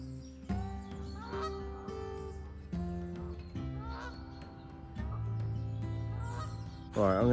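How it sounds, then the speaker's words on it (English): A big goose honks repeatedly on a riverside in the Wye Valley, a series of loud, close, nasal calls with short gaps, growing harsher toward the end. "That's a big goose."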